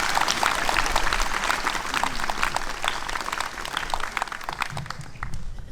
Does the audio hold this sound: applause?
yes